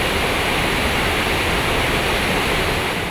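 A hill stream at Valanthode, which supplies water to about a hundred village homes, rushes steadily in a loud, close, continuous wash with no voices.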